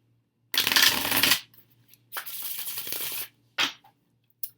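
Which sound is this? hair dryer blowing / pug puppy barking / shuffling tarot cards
shuffling tarot cards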